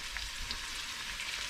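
Hamburger meat frying in a pan for a tamale pie, a soft continuous sizzle heard briefly and faintly, with no voices.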